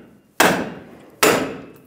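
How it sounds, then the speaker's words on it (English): A hammer strikes a pickle fork twice to separate the front lower ball joint on a 2007-2013 Chevy Silverado 1500, two sharp, loud metallic blows with ringing decay, spaced under a second apart. "Hammer it in."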